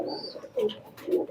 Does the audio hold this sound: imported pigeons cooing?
yes